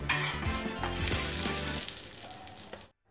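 A stuffed egg paratha made with wheat dough fries on a pan over a slow flame, giving a close sizzle with light scraping and rattling. The sound fades and cuts to silence near the end.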